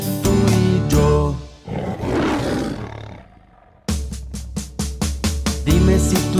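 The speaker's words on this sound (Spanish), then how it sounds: "Dime si tú sabes cómo hace el león." A lion's loud, rough roar rises and fades in the middle of a bright children's song about animal sounds. Plucked, bouncy music plays before and after it.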